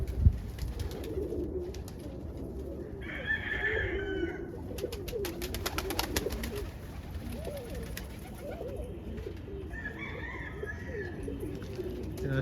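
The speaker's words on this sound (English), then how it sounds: "It's a grizzly cockbird." A grizzly roller pigeon cockbird coos in a few soft, low bursts against a background of other birds and faint rustling, with brief fluttering in between.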